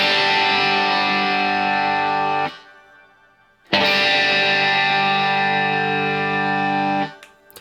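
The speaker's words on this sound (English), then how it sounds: "He's got shimmer reverb on his bass tone going all the time." A sustained bass guitar note, played through a Line 6 Helix with shimmer reverb, rings out with a bright, shimmering wash layered above it, cuts off, then returns and holds again before stopping.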